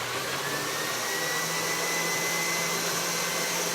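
Juicer motor running steadily while greens are fed through, a loud continuous whine and whir with a faint rising tone, close and alone with no talking.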